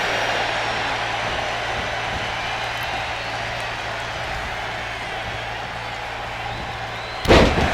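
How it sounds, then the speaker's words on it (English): A single heavy thud of a pro wrestler being slammed onto the ring mat in a back body drop at a live wrestling show, landing abruptly near the end after a steady crowd-and-hall rumble. "Big back body drop."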